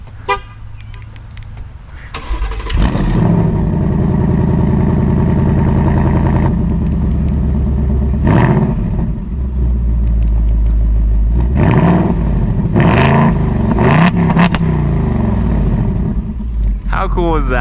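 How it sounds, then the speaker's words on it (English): Remote-triggered revving from a 2024 Ford Mustang GT Premium V8, a loud, sustained engine roar with several rising rev surges and swells, close by, with voices talking over it. "remote rev on your Mustang GT"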